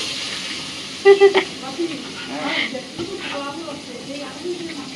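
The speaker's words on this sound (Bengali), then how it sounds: "মাছগুলো কড়া ভাজা হয়ে গেছে, তুলে নিচ্ছি একে একে।" Fried fish crisping in a pan with a steady oily hiss and sizzle, broken by a few short clattering knocks as pieces are lifted out one by one, while a voice talks over it.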